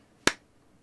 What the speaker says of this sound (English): You probably heard the clap before the actual clap happened.